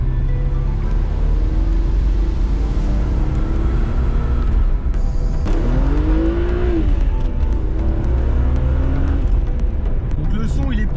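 BMW M3 E36 with a 286 hp engine and stock exhaust line revving in second gear, a loud continuous engine drone rising in pitch midway, close and steady, with some talk over it.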